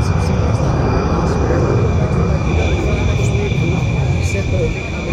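A Hellenic Air Force F-16 jet makes a low pass at an air show, giving a steady, loud roar with a broad rushing hiss that holds through the whole stretch.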